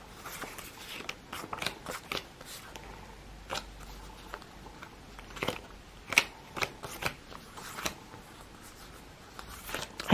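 Paper sticker sheets are flipped and handled, giving sparse, quiet crinkles and sharp papery snaps at irregular intervals, close up and without talk.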